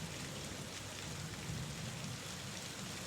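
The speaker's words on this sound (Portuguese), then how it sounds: "essa atmosfera sombria ao som da chuva" Steady, dense rain falling without pause, a broad hiss with low rumbling underneath, like a heavy nighttime downpour outside an apartment, alone with no voices.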